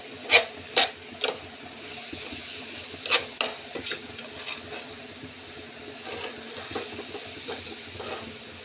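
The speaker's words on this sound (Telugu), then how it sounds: "కలుపుతుంటూ ఉండాలి" Coconut laddu mixture being stirred in a pan, with a few sharp scraping strokes at first and then softer, intermittent rubbing and scraping of the thick mixture, close and moderate in volume, with no talking.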